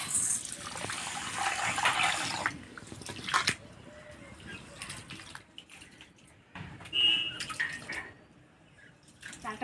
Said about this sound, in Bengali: সবার প্রথমে চালটা ধুয়ে আমি হাঁড়িতে দিয়ে দিব